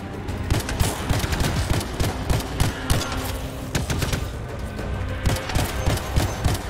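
Rapid pistol gunfire in the video game Anthem: a dense, steady run of sharp shots layered with explosive booms, loud and continuous for the whole stretch.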